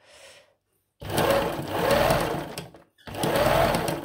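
An old all-metal sewing machine runs in short bursts, a brief whir, a pause, then two longer close, loud mechanical hums with a rhythmic chatter, the second cut by a short stop.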